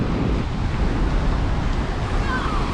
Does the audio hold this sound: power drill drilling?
no